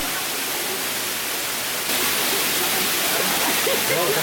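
Dense, continuous rushing of an 18-meter waterfall falling into a natural pool on Ko Samui, Thailand, loud and unbroken, with a voice faintly under the roar toward the end.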